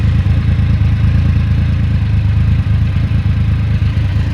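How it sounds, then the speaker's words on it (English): A 2020 Triumph Rocket 3 R motorcycle engine idles steadily at close range, a low, lumpy exhaust burble with a slight rhythmic pulse and faint mechanical clatter. "So this is the exhaust note."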